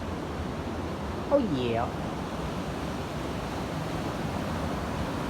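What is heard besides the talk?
water roaring over a dam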